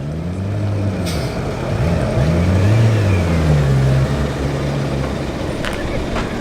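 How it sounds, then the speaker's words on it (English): A classic Volvo lorry on a road run of vintage trucks passes by, its engine a loud, steady low rumble with a rising and falling pitch as it goes through, plus a brief hiss that could be an air brake. "Next coming into view, a particularly fine looking Volvo."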